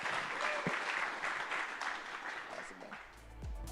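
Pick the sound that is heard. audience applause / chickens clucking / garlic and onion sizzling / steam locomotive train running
audience applause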